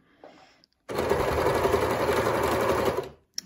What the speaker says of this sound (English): then start sewing